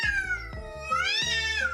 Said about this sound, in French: Oh, c'est un chat qui fait ce bruit?